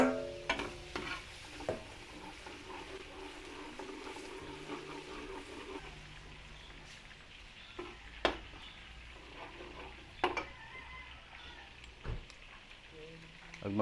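Garlic sautéing in a pan while cooking a birthday feast, a soft continuous sizzle with occasional spatula scrapes and clicks, quiet and steady, with faint background voices at times.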